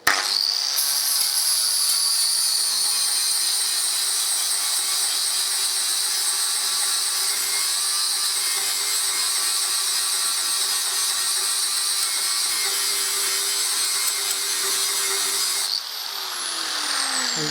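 Angle grinder cutting out the catalytic converter from the exhaust of a 2014 Harley Davidson Electra Glide, a loud, steady high-pitched whine held close for the whole stretch with a brief dip in pitch near the end.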